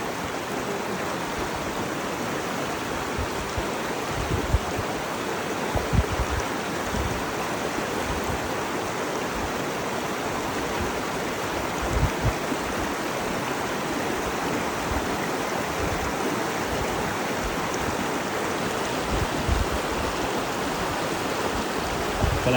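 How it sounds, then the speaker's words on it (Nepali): Strong current of a waist-deep river in Nepal rushing steadily, a dense continuous roar of churning water close by, with occasional low thumps and splashes. "हेर्दाखेरि मात्रै यति सानो छ तर एकदमै धेरै पानी प्रेसमा आइरहेछ।"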